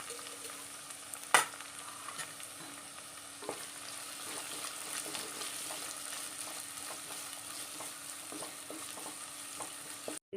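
Sliced onion frying in a pan for a curry gives a soft, low sizzle with occasional scraping stirs and one sharp clank near the start, fairly faint and close.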